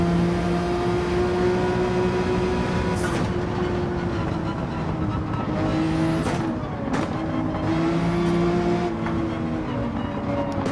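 Mid-engine race car in Gran Turismo 7, a loud sustained engine whine that climbs and drops through gear shifts and braking, with tyre and track noise and no talk.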